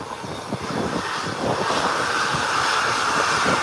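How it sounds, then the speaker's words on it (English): A Beechcraft 1900 touches down and rolls out at an airport. Its engines make a steady broadband roar that sounds distant and wind-blown, with no clear impact at the moment of landing. "the Beechcraft 1900 just touched down."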